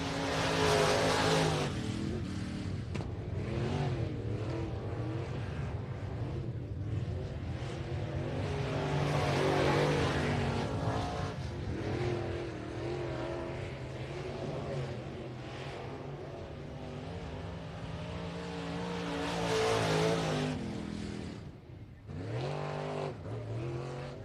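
A late model race car circles an oval at Texana Raceway Park, its engine roaring and fading as it laps, with rising and falling revs and brief tire noise, heard from trackside at moderate distance.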